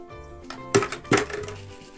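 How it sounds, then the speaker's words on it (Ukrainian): Sea pebbles dropped into a bottle partly filled with coloured water: a few sharp clinking knocks, two of them prominent, close and alone against light background music. "Вкидаємо в пляшку морські камінці."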